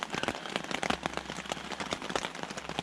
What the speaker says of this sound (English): Waking up to some good old rainfall in the tent.